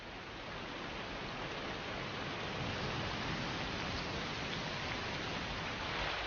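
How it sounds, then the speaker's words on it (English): A rainstorm over the Hebrides pours down as a dense, even hiss of rain that fills the whole stretch without letting up, with no voices. "this storm is only the first of a whole string of others, rolling over the Hebrides,"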